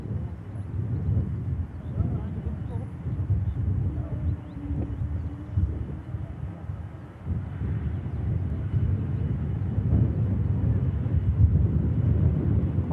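An Air France airliner begins its takeoff roll at the airport, a steady distant jet roar with wind buffeting that swells slightly toward the end.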